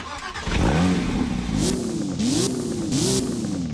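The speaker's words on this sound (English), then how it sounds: "It still has the 4-liter flat 6 that we all know and love, and it sounds pretty decent" A 4-litre flat-six car engine in the game Driving Empire revs repeatedly, rising and falling in pitch with brief gear-shift breaks, loud and close, with a synthetic game-like quality.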